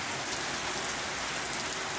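Heavy rain falls in Italy, a dense, even hiss of drops hitting surfaces that stays close and unbroken throughout.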